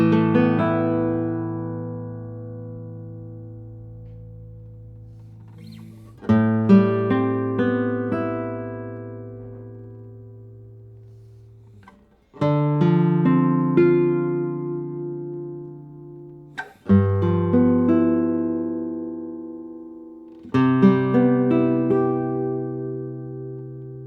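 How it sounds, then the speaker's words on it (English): A classical guitar with maple back and sides played alone, five plucked chords or notes ringing out and slowly decaying, each struck roughly every four to five seconds, close and clear with no talk. "Enough talking, let's see how the guitar sounds."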